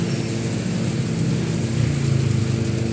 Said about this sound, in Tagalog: grabe lakas na ulan